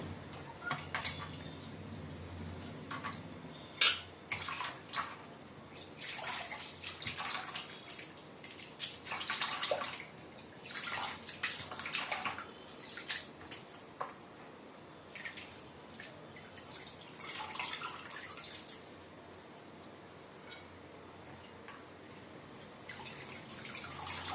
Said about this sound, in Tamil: சக்கரவள்ளி கிழங்க தண்ணியில் போட்டு அலசிட்டு எடுத்துக்கலாம்